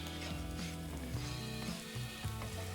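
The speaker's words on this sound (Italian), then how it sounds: "Faccio un soffritto in una padella con un bel giro d'olio" Onion sizzling in olive oil in a frying pan for an Italian soffritto, a steady close crackling fry throughout with no voices.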